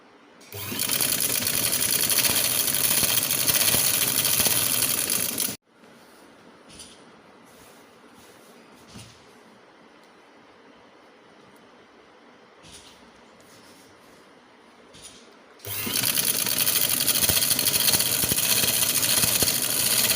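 A home sewing machine stitches a fitted bedsheet in two loud, fast, continuous runs, with a quieter stretch of handling and light clicks between them.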